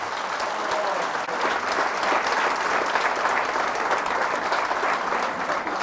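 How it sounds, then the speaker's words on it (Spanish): Church congregation applauding together, a dense, steady wash of clapping from many hands filling the room for several seconds. "Fuertes aplausos al Señor Jesús."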